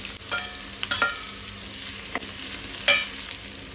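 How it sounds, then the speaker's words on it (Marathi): Chopped onion dropped into a pan of frying garlic for a Goan sole fish ambot tik, sizzling steadily with a few sharp stirring scrapes and clinks, close and fairly loud, no talking. "आनी आतां तातूंत घालया आमी कांदो।"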